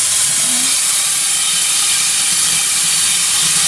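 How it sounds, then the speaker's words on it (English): The blower on a live steam boiler gives a loud, steady, close hiss that holds evenly the whole time with no breaks. "It's got a blower on it. Turn that on."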